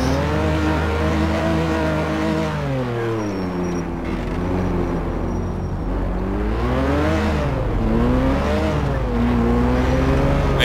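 A DeLorean driven in GTA IV's Ballad of Gay Tony mod, its engine loud and continuous, with the pitch sweeping up and down through repeated acceleration and gear changes.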